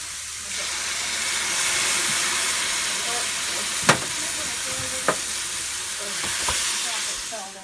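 Duck eggs cooking in tomato sauce sauté in a hot pan, giving a steady close sizzle and hiss throughout with a few sharp clinks of a utensil against the pan.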